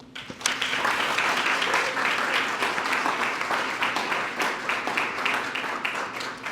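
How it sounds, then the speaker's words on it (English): An audience at a Harriet Tubman bicentennial birthday ceremony applauds a special guest, a full, continuous burst of clapping that swells quickly and stays strong before tapering slightly. "please give a round of applause to special guest, Girl Trek co-founder, Vanessa Garrison"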